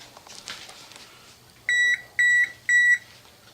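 An oven signals it has reached 350 degrees with three clear, evenly spaced electronic beeps, each about a quarter second long, over a faint background.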